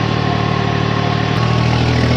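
A New Holland 3630 tractor engine, a 50 HP model, runs loudly and steadily at a constant idle-like drone throughout, with a slight shift in pitch partway through.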